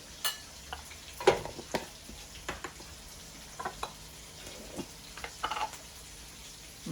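Curry powder sautéing in a hot pan, a soft, steady sizzle broken by scattered spoon scrapes and clicks of stirring against the pan, close and fairly quiet, with no talking.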